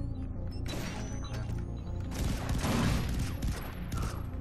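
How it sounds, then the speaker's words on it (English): Grenade blasts from the video game Far Cry 3: Blood Dragon, a dense run of loud explosive bursts and crackling detonations, with a second heavier flurry about halfway through, all without any talk. "I'm just gonna throw grenades at him."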